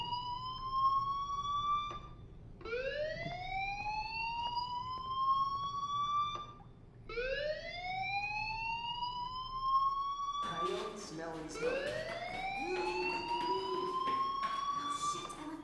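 Fire alarm in the video game Life is Strange, sounding as repeated long rising electronic whoops, each lasting a few seconds with short gaps, growing busier and layered toward the end.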